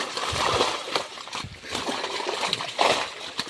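Strong rush of water splashing and sloshing during a tilapia pond harvest outdoors, loud and continuous with heavier surges, close by and with no clear speech over it.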